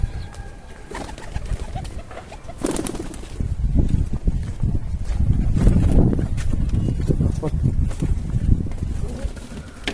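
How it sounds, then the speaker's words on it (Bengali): Pigeons coo and flap their wings while crowding into a coop, a steady rustling mix of soft calls and wingbeats close by; a person's calling voice mixes in. "সব কবুতরগুলো কিন্তু খোপের ভিতরে চলে যাচ্ছে"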